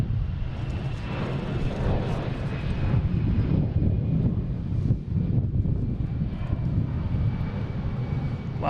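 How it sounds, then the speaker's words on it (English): An American Airlines Airbus A319 airliner at Boston Logan airport gives a steady, loud jet engine roar with a thin high whine, wind buffeting the microphone throughout. "This is American Airlines heading to Reagan. Flight 1421 and A319."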